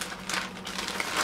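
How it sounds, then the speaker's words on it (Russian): Plastic wrapping crinkles and rustles as a parcel from China holding a windscreen for an audio recorder is unpacked, a brief, close, steady scratchy crackle with no talking. "Давайте распакуем, посмотрим, подойдет она или нет для меня."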